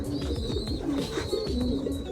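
Pigeons cooing in a backyard loft, several birds making overlapping low throaty coos in a soft repeating rhythm, close and continuous.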